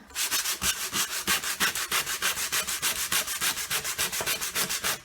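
Coarse 60-grit sandpaper scrubbing a matchbox in fast, even back-and-forth strokes, a loud, close rasping rhythm of about five strokes per second that keeps going without talk.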